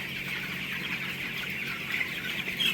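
Broiler cockerels about fifteen days old in a poultry shed give off a steady, continuous flock murmur of soft clucking and chirping, with no talk over it.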